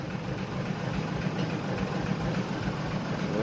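A steady low tractor engine idling nearby, a continuous rumbling drone with a faint regular throb and no voices.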